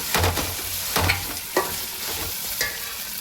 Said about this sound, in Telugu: అల్లం వెల్లుపై పేస్ట్ పొడి వేసినాయి కదా చక్కగా మంచిగా వేగిపోతూ ఉంది